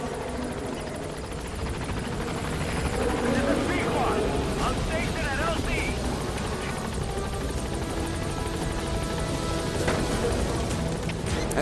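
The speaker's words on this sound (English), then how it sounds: "And so here's our helicopter." Loud, continuous helicopter rotor thrum and engine drone in the video game Metal Gear Solid V: The Phantom Pain, with a voice talking over it.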